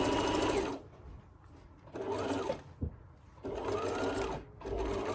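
Domestic sewing machine stitching around a fabric face covering, sounding in three sustained whirring runs of about a second and a half each, separated by short pauses, close and steady with no talk.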